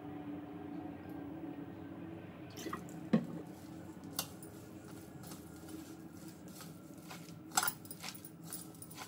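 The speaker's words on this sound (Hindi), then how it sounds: "इसमें अब हल्का सा पानी लगेगा।" A little water being added to a veg Manchurian vegetable mixture in a home kitchen, heard as a few faint drips and soft splashes over a steady low background hum, with no talking.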